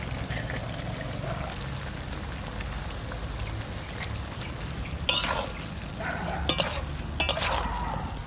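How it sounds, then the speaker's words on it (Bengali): Pieces of fried paneer are tipped into a cooking pan for veg biryani. A low steady background hiss runs throughout, then several brief clattering, splashing bursts come near the end as the pieces land. "ভাজা পনিরগুলো এবার দিয়ে দিচ্ছি।"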